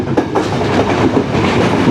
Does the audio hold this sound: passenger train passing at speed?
yes